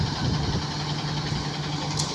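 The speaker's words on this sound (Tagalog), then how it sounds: "Napakaganda pa rin ng tunog ng makina niya." A Hino RK 49-seater bus engine idles at a bus terminal, giving a steady, even low hum throughout at a moderate distance, with no voices over it.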